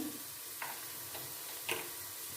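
Spoon scraping and stirring through goat trotters frying in a pan with red chilli, coriander, turmeric and salt, a few soft scrapes over a low, steady sizzle.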